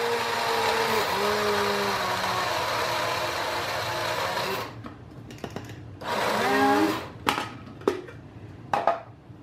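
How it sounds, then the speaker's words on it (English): An electric blender grinds almonds and peanuts for mole sauce: a loud, steady motor whine for several seconds stops abruptly, followed by brief bursts of blending, clatter and handling noises. "now I've got the almonds and the peanuts in here and I'm also gonna grind them up."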